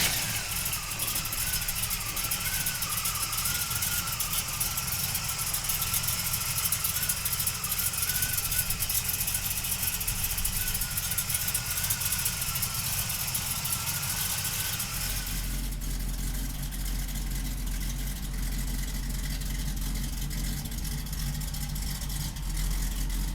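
A 1968 Chevrolet Camaro engine runs steadily throughout, a continuous loud idle with a deeper low rumble settling in during the last several seconds, with no voices.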